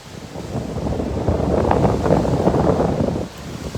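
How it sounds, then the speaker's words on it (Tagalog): Strong typhoon wind roars steadily along a coast with surf mixed in, a loud continuous broadband rush buffeting the microphone throughout, easing slightly near the end. "Grabe gid ana rong paskog kuraya karon nga hangin mga kasimanwa."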